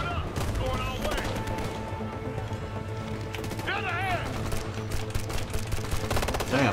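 Automatic gunfire in the shooter game Ghost Recon Future Soldier, crackling in rapid bursts across the whole stretch with distant shots and effects, while a voice talks over it.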